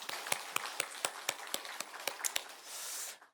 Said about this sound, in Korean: 앞에 영광의 박수를 먼저 올려드리겠습니다.